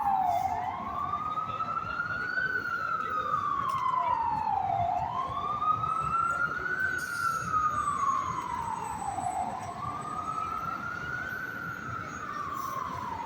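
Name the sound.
ambulance siren in Times Square, New York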